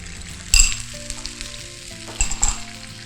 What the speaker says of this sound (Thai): ตั้งกระทะให้พอร้อนนะคะใส่ไข่ลงไป